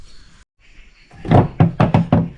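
Rear doors of a 1996 Ford Explorer, long unused after years of snow and salt, forced open: a brief quiet scrape, then five heavy metallic knocks and thunks in quick uneven succession, close and loud.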